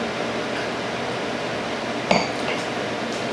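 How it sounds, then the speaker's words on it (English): Two wine glasses clink once in a single bright, ringing chink with a short decay, heard against a quiet indoor room during a blind wine tasting. "The correct wine glass sound."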